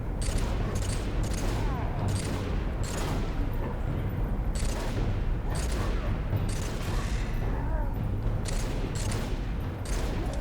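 Gunshots in Halo 3 during cover-based combat, repeated bursts of weapon fire and explosions over a rumbling, loud battle background.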